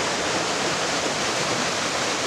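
Creek water rushes continuously nearby, a steady broadband hiss of flowing water filling the short stretch without any voices.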